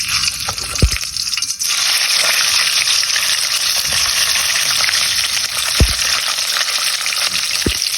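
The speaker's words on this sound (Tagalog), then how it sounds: "So tayo lang natin ito ma-fry ng ating bawang. Second fry na natin ang ating mga pork." Pork belly roll and garlic deep frying in hot oil, a steady, loud broadband crackle and sizzle running throughout, with a few sharp low knocks and pops scattered across it and no talking.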